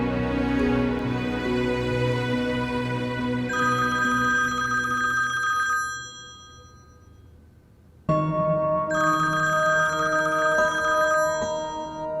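A telephone rings loudly in repeated bursts, with a brief pause midway before the ringing resumes.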